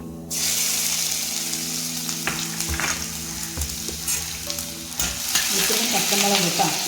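Onion, garlic and green chili sizzle and fry steadily in a pan while bitter gourd is being cooked, a loud continuous hiss with occasional stirring clatter, growing a little louder toward the end, with no talking.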